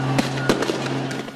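Fireworks fired during a riot in Taksim Square, heard as several sharp pops and bangs in quick succession over a loud crowd and street din.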